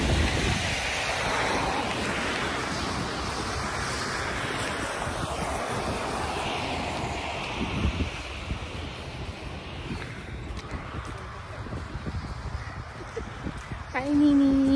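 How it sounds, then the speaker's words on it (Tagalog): Strong wind roars with blowing snow outdoors in Canada, a steady, heavy rush of gusts buffeting the microphone throughout, with a voice speaking briefly under it. "Mahangin na snow."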